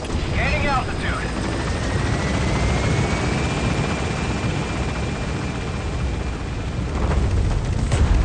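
B-Quad helicopter taking off from a landing zone in the video game Metal Gear Solid V, a steady rotor and turbine roar building as it climbs, with a radio voice talking over it and a rising whine.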